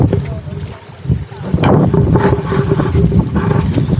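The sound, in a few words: strong wind at Taal Lake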